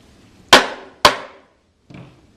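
Wooden hive body parts being tapped together at a joint: two sharp, close knocks about half a second apart, then a softer third tap.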